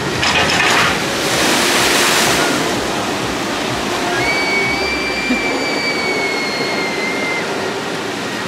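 Water rushes and splashes loudly on the School Rock Flume log ride at Oakwood theme park after dark, a broad steady roar that eases slightly, with a faint high whistle partway through.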